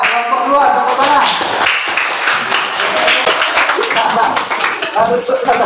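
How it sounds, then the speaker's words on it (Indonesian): Classroom clapping for a student group during a lesson, a dense burst of hand claps mixed with children's voices and chatter throughout. "Ya, kelompok dua, tepuk tangan."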